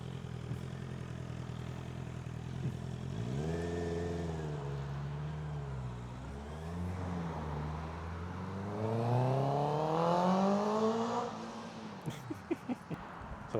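A 2024 Honda CBR650R E-Clutch motorcycle rides past, its engine note rising and falling through several gear changes, swelling to a loud near pass and then fading, with no talking.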